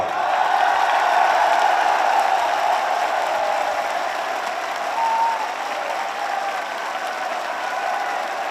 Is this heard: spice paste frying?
no